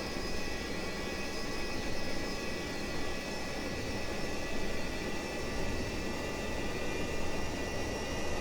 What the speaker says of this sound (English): So the engines are stable, we'll come off the brakes, come up on the throttles.